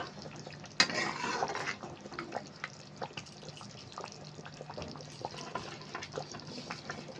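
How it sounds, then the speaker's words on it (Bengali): Doi chicken being stirred in a cooking pot, with wet, sloshing liquid sounds and scattered light clinks of a utensil against the pot, close and steady, beginning with a sharper knock. "আবার একটু নাড়াচাড়া করে নিচ্ছি।"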